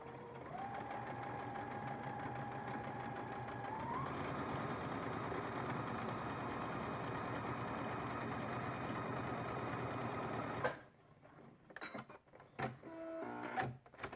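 Sewing machine stitching fabric while quilting, a rapid steady mechanical whir running close for about ten seconds before stopping abruptly, followed by a few scattered clicks and handling noises.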